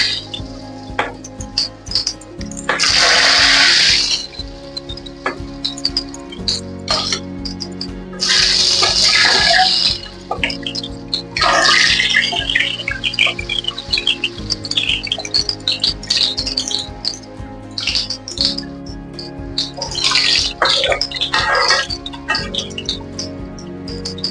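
Elephant foot yam pieces frying in hot oil for a roast, with bursts of loud crackling sizzle coming and going over a steady low hum, close by.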